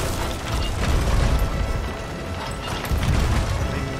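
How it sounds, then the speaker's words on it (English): Cannons firing during a naval battle scrim in a pirate ship video game, heavy low booms and rumbling thuds repeating over a dense, continuous background of mechanical battle noise. "First cannon is shooting"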